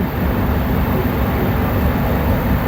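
Pakistan Express train pulling out of Rawalpindi railway station, a steady close rumble of rolling coaches and engine noise, constant and loud throughout with no voices.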